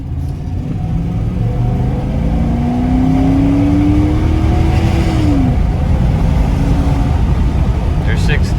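A mint-condition Dodge pickup's engine held at full throttle, a steady loud rumbling drone with a rising whine that climbs then drops as it shifts, recorded from inside the cab while someone talks over it.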